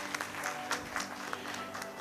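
A seated audience at an expert panel discussion applauds, giving soft, dense clapping that stays steady and fairly faint for a couple of seconds, heard from across the room.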